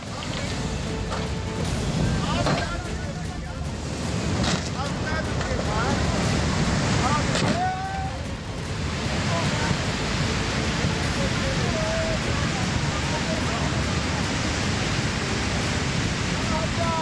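Heavy rain in Kullu sends floodwater rushing past, a loud, steady roar of churning water that fills the whole stretch, with a voice breaking in over it.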